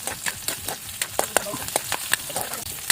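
Garlic and onion sizzle in hot oil in a home kitchen, with a steady fry hiss broken by repeated sharp stirring scrapes and clacks at an irregular rhythm, close and clear.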